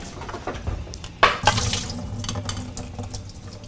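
Water running and gurgling down a kitchen sink drain while a Japanese comfort food dish heats nearby, a steady close wash with a brief louder splash partway through.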